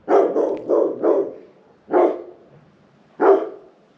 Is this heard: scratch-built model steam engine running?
no